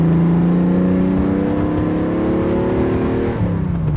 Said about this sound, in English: It's got that great Jag sound.